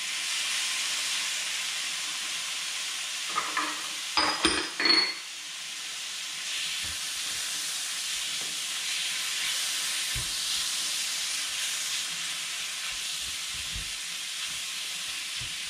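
Tomatoes hit a hot pan while cooking chicken sukka, giving a soft, steady sizzling hiss, with a short burst of clattering from the pan partway through.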